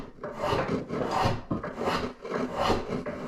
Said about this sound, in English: you can also use a rasp, and I do like that.